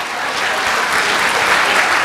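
An audience claps at a talk in Massachusetts, a dense, even burst of applause from many hands, close and steady for a couple of seconds with no voices over it.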